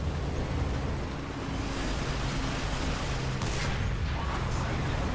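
Tank gunfire in the War Thunder video game, heard among low-tier German tanks, comes through as a dense, rumbling wash of battle noise with a sharper burst partway through. It sounds continuous and fairly loud.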